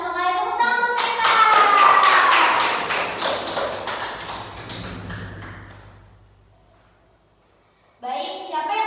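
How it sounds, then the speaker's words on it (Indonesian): A classroom of students breaks into brisk clapping for classmates during a bilingual lesson, loud and busy for several seconds before fading out, after which a voice resumes. "Tepuk tangan untuk mereka."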